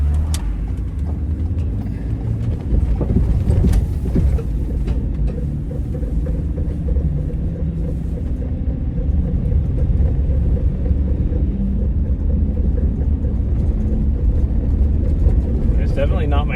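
A car creeping through heavy traffic makes a loud, steady low rumble that holds constant across gear changes and fills the whole stretch.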